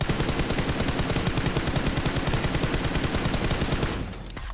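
Video-game gun fitted with a vertical grip fires one sustained, loud automatic burst of evenly spaced rapid shots for about four seconds, then cuts off.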